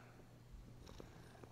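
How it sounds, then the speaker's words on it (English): A black cat purrs softly and steadily up close, a low continuous rumble that stays faint and even throughout. "Our lucky black cat."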